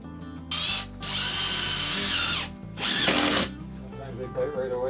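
A power drill drives stubborn screws in several close, loud, whining bursts, with short gaps between runs and a ratcheting clatter as the bit slips, while a voice talks faintly underneath.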